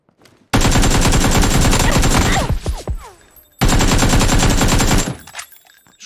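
Suppressed VSS rifle fire in PUBG rattles out in two long, rapid, loud bursts separated by a short gap, each trailing off with clattering echoes.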